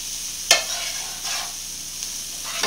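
Corn stirred in a frying pan with a squeeze of lime gives a soft, continuous sizzle, with a sharp utensil clack at the start and a few gentle scraping sweeps following.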